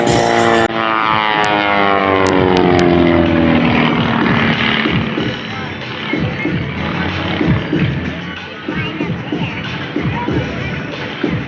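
A Pitts aerobatic propeller plane makes a pass at the 2016 NAS Patuxent River air show. Its loud, close engine drone slides steadily downward in pitch as it goes by, then gives way to a rougher, fainter rumble.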